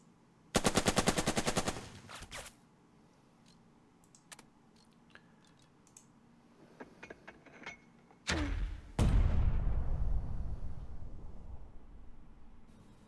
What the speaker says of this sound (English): Mortars don't need to be able to see the enemy to lob shells at them